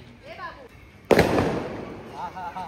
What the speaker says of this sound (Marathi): तर ते फटाके कसे उडले